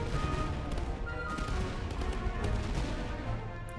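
Dense musket volleys and cannon fire from a Master of Command battle, a continuous rolling crackle of distant shots with heavy low rumble throughout.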